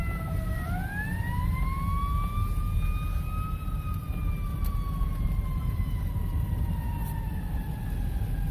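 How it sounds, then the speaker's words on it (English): An emergency vehicle siren rises into one long wavering wail over a steady low rumble, heard at a moderate distance with no talking. "I hear sirens."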